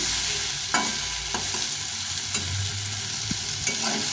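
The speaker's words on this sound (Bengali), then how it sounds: "এখন করলা আলু সবগুলোকে একটু লাল লাল করে ভেজে নিয়েছি" Sliced bitter gourd and potatoes fry and sizzle steadily in a pan, with a few sharp scrapes of the spatula stirring them at irregular intervals.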